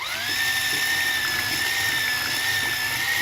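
A steady high-pitched motor whine from a Kiwi KMX-3612 cordless hand mixer running at its second speed while beating eggs, heard close and continuous with no talking.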